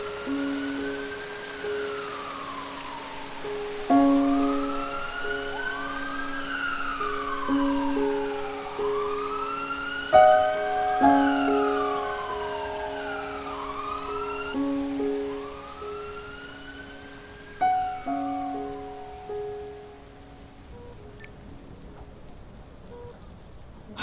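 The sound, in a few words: ambulance siren sound effect in rain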